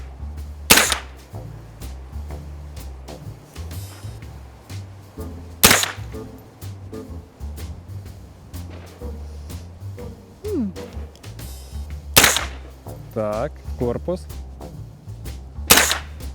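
Gunshots from guns at shooting practice, several loud sharp reports spaced a few seconds apart over a steady low background rumble, with occasional voices.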